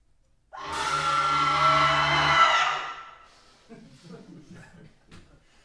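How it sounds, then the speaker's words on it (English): About ten voices in a recording studio let out a loud, sustained scream together for a couple of seconds, then it fades into quiet murmuring. "This is the sound of 10 kind friends and colleagues screaming in a recording studio."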